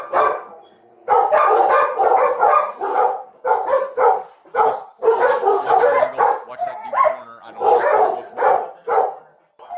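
Several dogs bark, yip and whimper in quick, overlapping bursts with short pauses between them, loud and close throughout.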